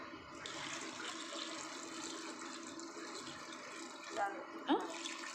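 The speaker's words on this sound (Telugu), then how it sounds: "ఇంకా వాటర్ పోసేసుకుందాం" Water is poured into a pot of drumstick dal with tomato, onion, turmeric and tamarind, making a soft continuous running-water rush, fairly faint, as people talk in the background.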